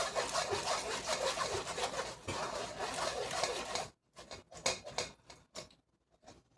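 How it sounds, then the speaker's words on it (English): A whisk pushes cooked tomato pulp through a strainer with a continuous wet scraping and rubbing that stops abruptly, followed by a few short scrapes and taps, and no one speaks. "It's all going to come together on that whisk. And just siphon it through."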